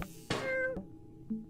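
A cartoon cat in the video game Machinarium lets out a single pained meow after an electric shock, a short, loud, tonal cry near the start, followed by a quieter brief squeak near the end.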